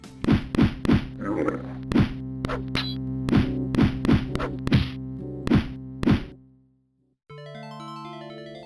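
Sword swings in an Elder Scrolls video game land as a rapid series of about a dozen sharp, close thwacks and thuds in an uneven rhythm, followed by a soft sustained musical tone.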